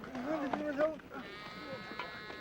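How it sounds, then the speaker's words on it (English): Sheep bleat in a short, wavering call near the start, followed by softer livestock sounds, with a voice speaking over them throughout. "Abraham and Lot, who was with him, owned so much cattle"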